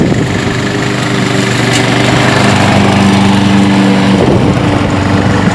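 A remote-controlled RCLM S Class lawn mower cuts thick two-foot grass with a loud, steady engine drone, and its pitch wavers slightly as it pushes through the growth.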